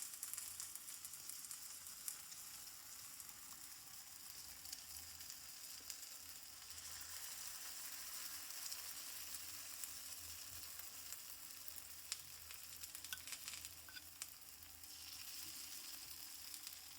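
Ghee sizzles around frying dough in a soft, continuous fizz with faint crackles, held at a steady low level from start to finish, with no voices.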